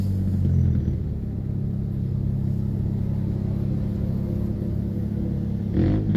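Engine of a Chinese motorbike revving and droning at a steady mid pitch, a rough continuous rumble close by, with a short burst near the end and no speech.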